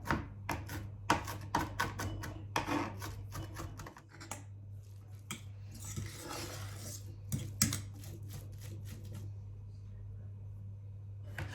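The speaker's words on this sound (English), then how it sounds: "so I just chop everything fine." Spring onions and regular onions being finely chopped with a knife on a board, a fast run of sharp taps at close range that speeds up into a dense flurry and then goes back to separate cuts.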